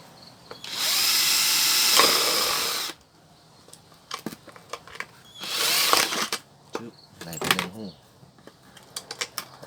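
A power drill bores a hole into a plastic soda bottle cap while a shrimp trap is being made, with two longer whirring bursts between short clicks and handling noises; someone speaks in between.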